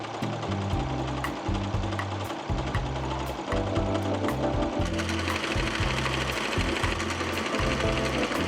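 A serger sewing machine stitches dress fabric with white thread, a loud, rapid mechanical chatter close by that runs in short bursts separated by brief pauses, then becomes continuous.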